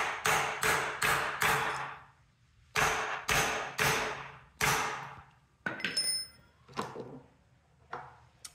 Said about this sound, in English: My socket's about to bottom out, so I'm gonna use a punch.